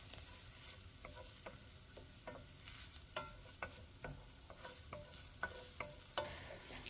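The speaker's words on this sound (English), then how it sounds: "Now I'm going to saute my diced onion." Diced onion sautéing with a pinch of salt in a pot for one-pot lasagna: a soft, faint sizzle under frequent irregular utensil taps and scrapes from stirring, with no speech.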